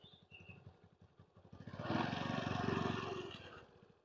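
Scooter engine revving up during a beginner riding lesson, rising from a low idle putter to a steady louder buzz for a couple of seconds, then easing off as the throttle is cut and the brake applied.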